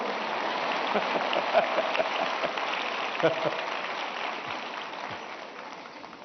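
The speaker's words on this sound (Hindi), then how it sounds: "देखो ये आपकी पसंद की बात आई तो ताली बजाते हो आप लोग।" Large audience applauding in a hall at Bharat Mandapam during an address, a dense sustained patter of clapping that gradually fades, with someone speaking over it.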